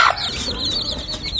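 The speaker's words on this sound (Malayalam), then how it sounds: "3 കാലുള്ള കോഴിക്കുഞ്ഞാണ് കോഴിക്കോട് കാരശ്ശേരിയിലെ താരം." Three-legged chick on a backyard country poultry farm, giving a short series of thin, high peeping clucks, close and clear, lasting barely over a second with no talking.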